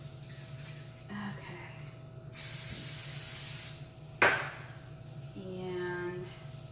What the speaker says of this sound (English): I'm gonna put a little bit of cooking spray on there